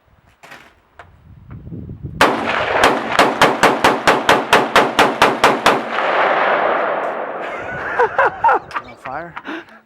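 Rapid gunfire from a custom AR-15 pistol on a field test, a burst of about fifteen sharp, loud shots in quick regular succession, followed by a sustained rumbling roar and a few scattered clanks, with voices briefly heard.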